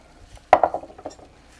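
A spoon clanks against a pot while braised green beans and tomatoes are stirred together, giving one sharp knock followed by a few lighter scraping clinks, close and alone.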